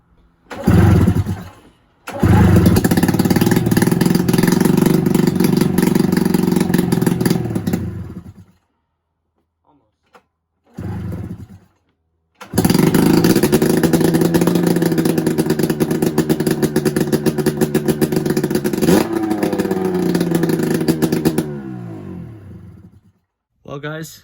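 A snowmobile fitted with a straight-pipe exhaust starts indoors with a very loud, raw roar, idles and revs, cuts off, then fires up again for a long loud run before dying away, with brief silences between.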